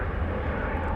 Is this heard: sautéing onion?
no